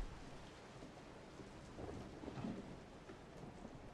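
Rain falls steadily outside a haunted house in the video game Resident Evil 7, with a faint, distant roll of thunder swelling midway. The whole scene is quiet and soft.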